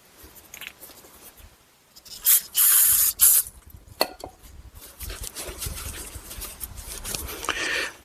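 Short bursts of aerosol cleaner spray onto a rusty, corroded brake caliper boot on a 2010-2017 Chevy Equinox or GMC Terrain, two loud close hisses followed by quieter spraying and dripping.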